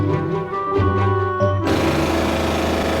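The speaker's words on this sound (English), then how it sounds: "Hear that drumming? That is cold hammer forging." A cold hammer forging machine in the Beretta barrel factory, where four hammers strike and stretch a steel barrel. It gives a steady, loud mechanical drumming that shifts into a denser, harsher roar partway through.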